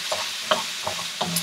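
Shrimp frying in a hot pan for shrimp fried rice, a soft steady sizzle broken by a few brief scraping stir strokes, close and moderately quiet with no talking.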